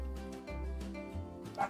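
Dogs barking inside a Planet Zoo zoo-building session with game music running, several short yips and woofs spread across the clip at moderate distance under the music.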